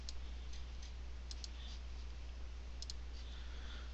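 A computer mouse clicks several times while moving through a software form, the sharp, faint clicks spaced irregularly and heard alone against a quiet background hum.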